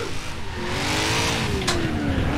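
A 450 hp BMW M3 E46 engine in Forza Horizon 4 whines with a wavering pitch as it drifts in third gear and holds revs, with a brief squealing burst near the end.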